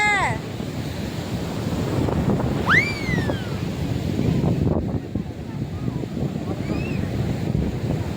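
Sea waves roll onto Marina Beach in a steady, close roar, buffeted by wind against the microphone, with a few thin whistle-like tones rising over the surf.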